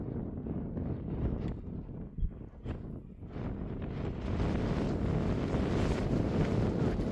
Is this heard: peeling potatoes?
no